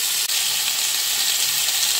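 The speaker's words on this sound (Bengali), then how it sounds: "আলুগুলো দিয়ে ভালো করে ভেজে তুলব। এটাকে ভালো করে ভাজবো" Potatoes frying in a pan in very little oil give a steady, dense sizzle that stays loud and even throughout, with no talking.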